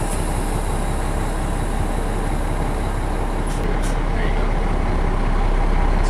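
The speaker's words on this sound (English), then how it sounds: "Dump the brakes." Heavy truck towing an RV idles with a loud, steady broadband engine rumble; a short hiss of air brakes releasing rises briefly around the middle, close and constant in level.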